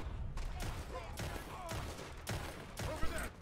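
Rapid gunfire in the video game Red Dead Redemption 2, with dense bursts of shots repeating roughly every half second across the clip, loud and continuous with game ambience underneath.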